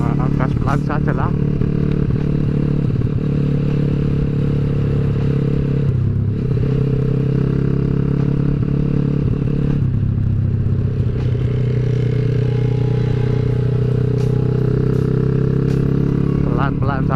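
A motorcycle rolls slowly with its engine droning at low throttle, a steady close rumble that dips and rises briefly with small clatters, while people talk over it throughout.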